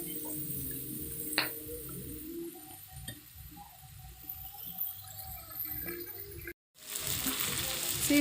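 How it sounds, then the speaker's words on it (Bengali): Flat beans and potatoes fry in oil with a steady sizzle and occasional light stirring clicks, cut briefly by a short dropout near the end. "খুব ভালোভাবে ভেজে নেব সিম আলু।"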